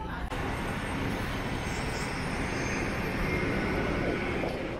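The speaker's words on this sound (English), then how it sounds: "ये KLM की flight है जिससे हम तुर्की जा रहे हैं. ये इनका रनवे स्टॉप है." A KLM airliner on the runway at Schiphol Airport in Amsterdam, its engines a loud, steady broadband roar that fills the whole stretch without letup.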